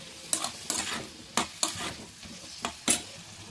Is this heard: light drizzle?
no